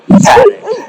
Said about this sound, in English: you can hear the livestock guardian dogs in the background